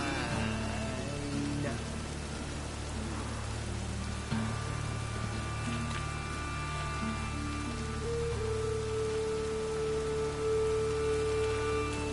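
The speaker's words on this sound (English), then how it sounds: "Rain, I like rain." Continuous rain in The Witcher 3: Wild Hunt pattering on surfaces, steady and close, with a faint low hum and a sustained tone rising in the background.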